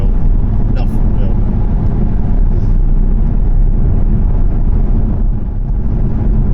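A Jaguar XFR V8 drives with the windows down, heard as a loud, steady, dense engine rumble with road and wind roar underneath and no letup.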